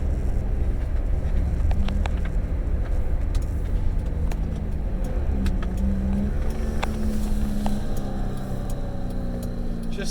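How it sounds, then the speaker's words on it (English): A 1984 BMW 633 CSi coupe with a fuel-injected straight-six hums steadily from inside the cabin while driving, with a low continuous engine tone and mild road rumble. "Just that hum of that straight six, there is nothing like this."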